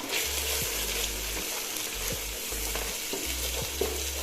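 Ginger and garlic paste sizzles steadily in hot oil while being stirred for Palakkad-style chicken biriyani, a continuous close frying hiss punctuated by occasional scraping strokes of the spoon.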